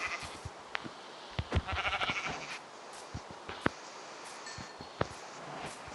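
A few faint bleats from a Minecraft sheep, brief and nasal over a soft, low game background, scattered with small clicks and taps and no talking.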